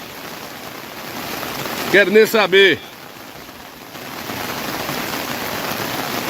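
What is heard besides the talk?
heavy rain pouring in the Caatinga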